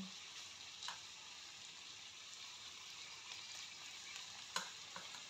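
Mango pickle being stirred in a pan: a faint, steady scraping and soft sizzle with a few light clicks of the spoon against the metal, no voices.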